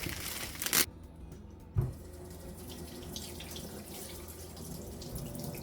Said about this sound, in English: take this out of the wrapper and rinse it underneath the tap